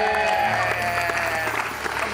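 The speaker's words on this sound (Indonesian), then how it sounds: "tepuk tangan." A studio audience applauds during an Indonesian television variety show, a continuous wash of clapping with voices mixed in over it.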